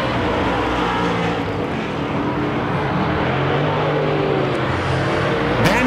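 Wissota modified race cars roar around a dirt track in a late-lap feature, their engines forming a loud, continuous, dense drone with slight rises and falls as the pack passes.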